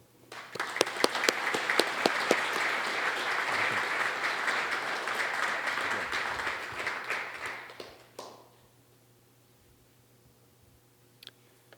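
An audience applauds at an evening horology lecture on engine-turning (guilloché), steady dense clapping for about eight seconds before fading out to room quiet, with no talking over it.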